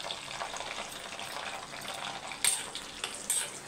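Eggplant sizzling in hot sesame oil in a pan, a steady close crackle with a couple of brief clinks partway through.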